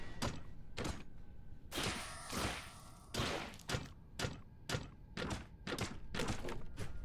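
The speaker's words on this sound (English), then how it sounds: "It sounds like wood being broken" Repeated heavy wooden cracks and thuds from a two-handed mace smashing breakable wood in Stoneshard, a dozen or so close, loud impacts with some broader splintering bursts in between.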